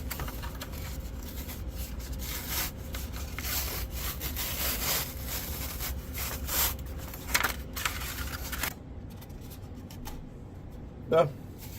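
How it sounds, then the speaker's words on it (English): Paper being peeled off foam board for a wing build, a continuous dry scraping and tearing rasp with irregular crackles that stops near the end, followed by a couple of isolated small sounds. A person talks at moments. "So just remove all the paper."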